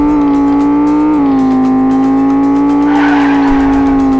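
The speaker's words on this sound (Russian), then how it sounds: "Вот это дрифт был." A sports bike drifts in the Sports bike simulator Drift 3D video game: a loud, steady engine whine holds and shifts pitch while a rough tire skid hiss rises near the end.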